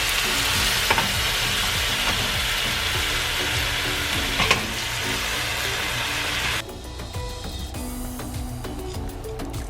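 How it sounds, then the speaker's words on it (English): Grilled Japanese rice balls sizzle in a pan with soy sauce added over lowered heat, a loud, continuous close frying hiss that drops noticeably partway through. "After grilling all rice balls, adding 2 tablespoons of soy sauce."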